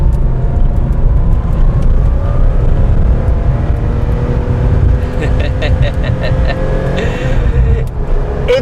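A factory lightweight Porsche 964 RS engine pulls steadily from about 1,000 to 4,000 rpm, heard from inside the car as a loud, continuous droning growl whose pitch rises smoothly.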